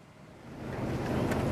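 A boat carrying election supplies out to remote islands off South Lampung pushes across open sea, a broad rushing wash of water and wind that swells steadily louder, with no voices.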